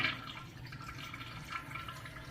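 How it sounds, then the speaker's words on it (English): A toilet with a Fluidmaster PerforMAX universal fill valve flushes, giving a steady rushing, hissing wash of water that stays even throughout, close by with no talking. "So what I'm going to do, I'm going to flush it again."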